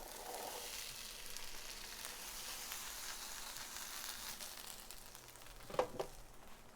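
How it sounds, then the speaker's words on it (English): Beans and corn sizzle in a hot pan, a steady soft frying hiss running throughout at moderate distance, with a couple of brief clatters near the end. "You guys can hear it sizzling."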